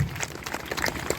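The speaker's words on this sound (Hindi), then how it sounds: "तो एक बार अपने लिए जोरदार ताली से आप लोग" An audience applauds in a hall, a dense patter of many hands clapping at moderate volume, steady and unbroken for just over a second.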